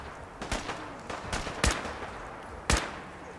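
Gunfire from the Overseer's Guardian combat rifle in Fallout 4, with about four sharp shots spread irregularly over a few seconds against a low background hum.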